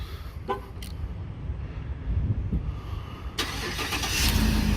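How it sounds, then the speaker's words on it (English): A 2014 GMC Sierra 1500 Denali 4WD with a 6.2-liter V8 and 155,000 miles is started remotely. After a quiet idle-like background, the engine cranks and catches about two-thirds of the way in, then runs on steadily, fairly close. "It should have remote start. Let's see if it works."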